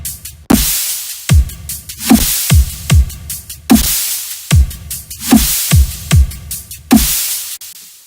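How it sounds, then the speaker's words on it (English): A loud dubstep beat with reverb-washed cymbals and closed and open hi-hats layered over a half-time kick and snare pattern, the crashes and hats filling the gaps between drum hits. "plus cymbals, hi-hats, like closed and open"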